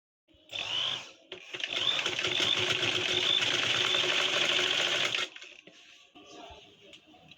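A sewing machine runs steadily for about five seconds, stitching around the neckline of a baby frock. The whirring is close and continuous, then stops and leaves quiet handling noise.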